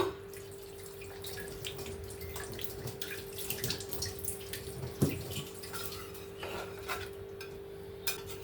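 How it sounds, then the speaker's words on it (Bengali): Water poured into a pot of chicken curry, soft splashing and dripping with light clinks of utensils against metal, fairly quiet over a steady background hum. "আমি এখানে সুন্দর করে জল দিয়ে দিয়েছি"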